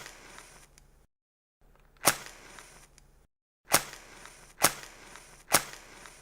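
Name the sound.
match being lit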